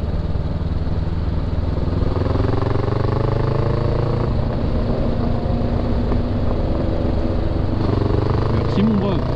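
Honda CBR 500 R motorcycle on the road, a steady engine drone with rising and falling gear tones and wind rush, while a rider talks over it.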